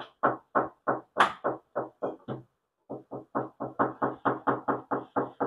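Rapid series of sharp, tinny knocks on a thin metal body panel of a new Honda WR-V before sound deadening, each hit ringing briefly; a short pause midway, then steady knocking resumes, close and fairly loud.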